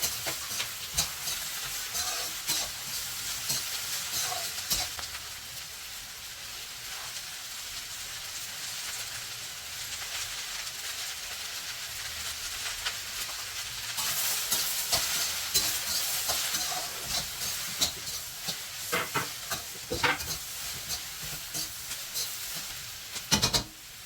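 Vegetables frying in a pan with tadka tempering while being stirred, a steady soft sizzle and hiss with scraping stir noises throughout, fairly quiet and with no speech.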